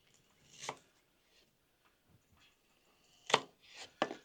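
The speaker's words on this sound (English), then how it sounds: "I just want to come in here and slice it because I want sauteed, griddled onions on my sliders." A knife slices a yellow onion on a cutting board in a few sharp, close strokes. One cut comes early, then a quiet pause, then a quick cluster of cuts near the end, with no speech.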